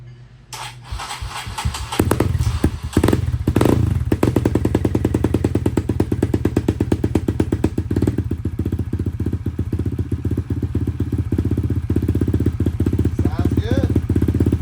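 A Kawasaki KLX140 dirt bike fitted with a 170cc BBR big bore kit and a 26mm Mikuni carburetor starts up and idles loudly up close, a fast steady single-cylinder putter with a few blips, with a voice briefly over it.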